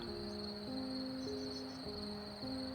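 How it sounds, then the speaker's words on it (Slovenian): Crickets chirp steadily outdoors by the Soča river in the Trenta valley, a continuous faint high trill over a soft, even background wash with no voices. "Črički pa Soča."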